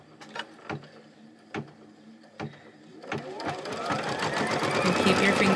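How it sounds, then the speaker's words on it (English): An embroidery sewing machine stitching an 18th-century-style pocket, with a few separate mechanical clunks, then a steady rising whir of fast rhythmic stitching that grows loud and close. "I've threaded my machine, and we are ready to put our foot down"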